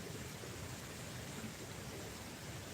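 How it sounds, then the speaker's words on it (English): Steady, even hiss of rain falling, continuous and fairly quiet, like a distant downpour heard from indoors. "It definitely is raining."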